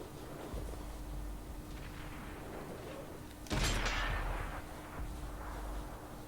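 Tank cannon fire in the video game World of Tanks on Xbox 360, with one sharp, heavy boom midway that rolls off into a rumbling decay over steady engine and battlefield noise.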